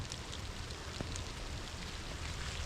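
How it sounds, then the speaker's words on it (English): Steady rain hisses evenly on a 2024 Toyota Tundra climbing a mountain dirt road on Mount Antero, a continuous broadband wash with faint patter and no voices. "It's raining pretty good"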